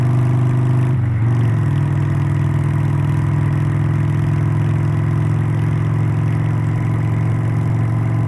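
A 2003 Harley-Davidson Sportster Roadster with its original 883 engine runs steadily up close, a loud, continuous low rumble with a brief dip and surge near the start before settling into an even idle.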